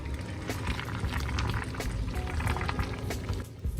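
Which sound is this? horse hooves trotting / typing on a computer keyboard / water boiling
water boiling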